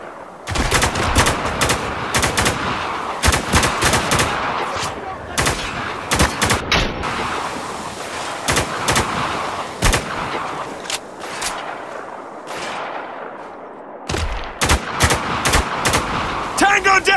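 Rapid, loud bursts of gunfire in the shooter Spec Ops: The Line, dense repeated shots and volleys cracking throughout, with brief pauses between bursts.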